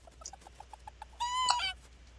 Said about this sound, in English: Wow, the chickens really like Joshua